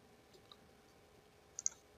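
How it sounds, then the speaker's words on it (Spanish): A mouse double-click on a chart in SPSS statistics software: two quick, faint clicks close together near the end, in an otherwise quiet room with no talking. "Le damos doble clic en la gráfica"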